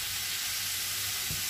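Cauliflower rice seasoned with salt and pepper sizzles steadily in a frying pan for a Peruvian-style keto dish, with a faint scrape of stirring near the end, close and continuous, no voices.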